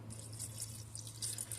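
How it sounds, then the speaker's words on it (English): Warm water runs into a cooking pot in a soft, close, continuous trickle with light dripping splashes, over a low steady hum. "I'm going to add some warm water to it"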